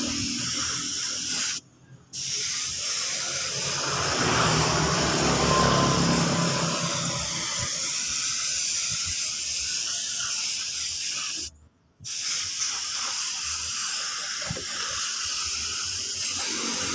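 Spray gun paint being applied to a motorcycle body panel: a steady, close hiss of spraying, broken by two short pauses in the trigger, with no talking.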